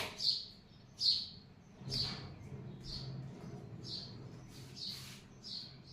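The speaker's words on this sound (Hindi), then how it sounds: "एक चिड़िया परेशान कर रही है बहुत देर से मुझको।" Bird chirping close by indoors during a physics lecture, seven sharp high tweets spaced roughly a second apart, clear and fairly loud over a quiet room.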